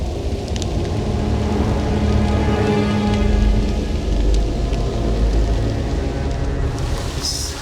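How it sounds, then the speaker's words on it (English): Light rain dripping steadily outdoors in a wooded camp among pine trees, a dense continuous patter with no talk. "It's not super strong rain, but it's dripping"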